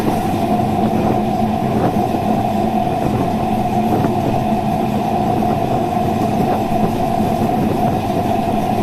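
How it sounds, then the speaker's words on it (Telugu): Wheels of a Vijayawada–Machilipatnam passenger train run along the track in a loud, continuous rumble, with regular clicks at the rail joints heard from close inside the train. "ఇది ట్రాక్ సౌండ్ ఏనండి."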